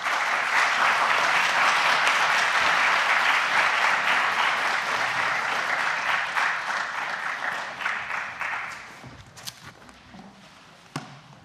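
Audience applause at a cultural event honouring the Ukrainian poet Taras Shevchenko: many hands clapping in a full, steady burst that gradually thins into a few scattered claps and then stops.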